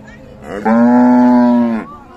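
A Friesian cow moos once at a cattle market, a loud, close, drawn-out low call lasting about a second, with quiet background before and after.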